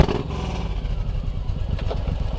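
Suzuki M109R motorcycle engine firing up and settling into a loud, close, pulsing idle for a couple of seconds, with nothing else over it.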